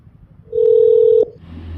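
A phone placing a video call gives one loud, steady electronic tone lasting under a second, then cuts off over a low background hum.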